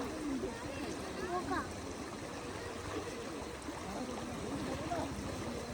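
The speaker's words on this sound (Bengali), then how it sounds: "প্রচুর স্রোত।" A strong river current rushes in a steady, dense roar of moving water, unbroken throughout, with faint voices in the background.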